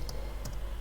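Two quick, light keyboard clicks, spaced apart, over a low steady hum.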